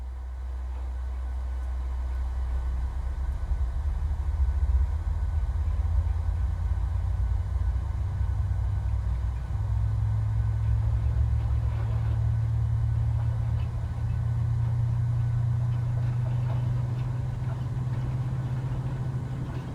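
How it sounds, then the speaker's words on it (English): Low, steady engine rumble as engine number 2 of a PMDG 737-700 spools up during start in Microsoft Flight Simulator, a deep drone that thickens and rises slightly in pitch midway and holds. "sounds like we have a good start of engine number 2"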